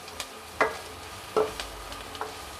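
Garlic dropped into a hot pan for pork menudo, giving a soft steady sizzle with a few brief clinks and scrapes of stirring.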